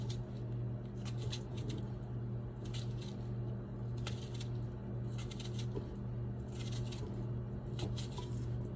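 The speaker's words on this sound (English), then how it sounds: "Just rough chopping my cucumber." A knife rough-chops cucumber on a cutting board in a home kitchen, giving quiet, irregular clusters of soft crisp taps and squishy cuts over a low steady hum, fairly faint.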